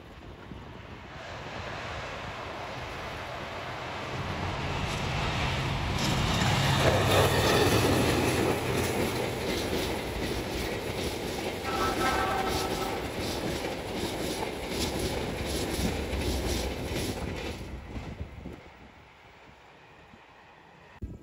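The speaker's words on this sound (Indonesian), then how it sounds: "Dari arah selatan di jalur 3 ada Argo Dwi Pangga" A passenger train, the Argo Dwipangga, arrives close by at a station, a broad roaring wash that swells and holds steady before fading away, with faint rhythmic wheel clatter.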